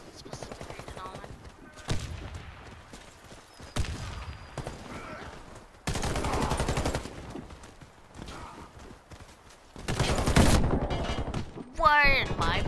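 Bursts of automatic gunfire from the shooter video game Warface, several loud sustained volleys separated by quieter stretches with faint background sounds and brief voices.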